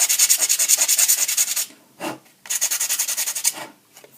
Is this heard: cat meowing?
no